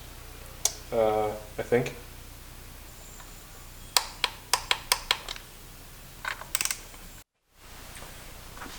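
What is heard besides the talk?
torque wrench tightening BMW M50 valve cover bolts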